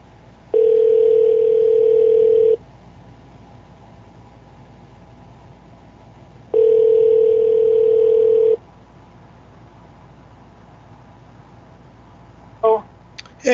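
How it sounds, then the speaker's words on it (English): A phone call rings out over a Bluetooth speaker: two long, steady ringback tones about two seconds each, spaced several seconds apart, loud and close over a faint background hum, ending with a brief click. "now you got to call Kenny on the camera phone and turn on the speaker"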